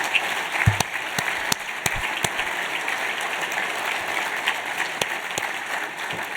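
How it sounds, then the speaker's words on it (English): Steady applause from a dinner audience at the 2023 SIA Awards, honoring the event team: dense, continuous clapping that fills the room evenly, with a few sharper individual claps standing out, and no voices over it. "I'm going to ask you to give one more round of applause, this time to my truly awesome team at SIA"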